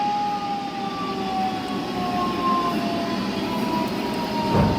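Dam warning sirens wail steadily as spillways are opened, continuous and loud over a constant roar of rushing water, with no voices.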